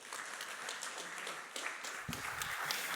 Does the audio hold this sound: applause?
yes